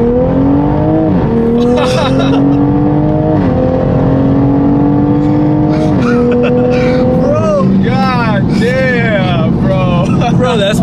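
Tuned Toyota MKV Supra engine revving loudly and repeatedly, rising and falling in steady pulls before launching hard, with people talking over the close engine throughout.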